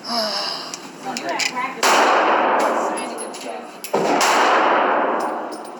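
Two sharp, loud reports from a handgun ring out a couple of seconds apart, each followed by a lingering noisy decay, with brief talk before the first shot.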